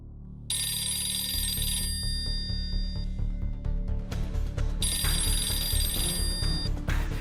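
A telephone rings in two bright electronic bursts separated by a pause, fairly loud over a low rumbling background.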